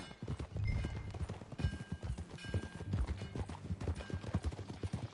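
Horse hooves clip-clop in a steady trotting rhythm in Red Dead Redemption 2, close and clear, with faint snorts and soft ambient background throughout.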